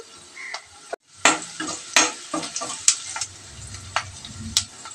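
Ivy gourd and egg sizzle in a pan in a village-style kitchen, with repeated sharp scrapes and clinks of a spatula stirring over a steady frying hiss, close and alone.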